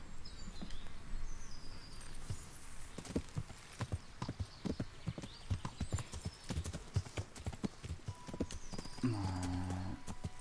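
A horse in the medieval video game Kingdom Come: Deliverance, its hooves clopping in a brisk, repeated rhythm close by against faint outdoor ambience, ending with a short snort or whinny.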